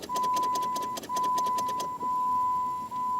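A Jeep Grand Cherokee Laredo fails to crank on start: a close, rapid run of clicks and relay chatter over a steady warning chime, then the chime continues alone with no engine turning over.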